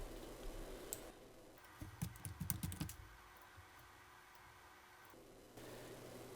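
Fingers tap a run of quick, light keystrokes on a computer keyboard while entering stock item details, a short burst of clicks in the middle set against a faint, steady background hiss.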